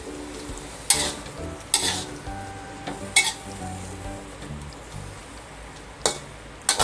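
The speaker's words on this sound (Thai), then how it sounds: "เสร็จแล้วก็ทำการผัดให้เข้ากันนะครับ" Green onions crackle and sizzle in a pan with mixed mushrooms while a utensil clinks and scrapes against it every second or so during stirring.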